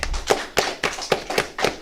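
Hands clapping in a steady rhythm during a Sabbath service class, about seven sharp claps spaced evenly, fairly close and loud, with no talking.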